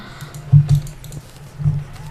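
Computer keyboard keys clatter during a Terraria game session, a few close, loud key clicks and taps in a short irregular burst, with no talking.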